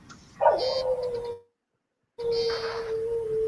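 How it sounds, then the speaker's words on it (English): A dog barks out in a yard in two loud bursts, separated by a short stretch of silence, each carrying a steady whining tone over a noisy background. "And the dog's in the yard barking."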